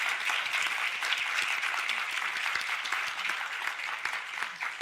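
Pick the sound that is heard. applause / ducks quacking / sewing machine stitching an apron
applause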